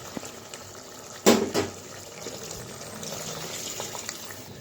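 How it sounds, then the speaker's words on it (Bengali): Water is poured into cooked-down fish masala in a pan: a sudden splash and hiss near the start, then a low bubbling, watery rumble as it settles. No one speaks. "মশলাটা আমার কষে গেছে, তো দিয়ে দিব জল"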